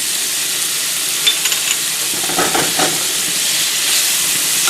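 Garlic hits a hot pan in a home kitchen, setting off a loud, steady sizzle and hiss up close. A few scraping stirs break through near the middle, and no voices are heard.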